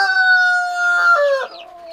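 Hens in a coop give steady, close clucking and drawn-out calls for about two seconds, with no talking over them.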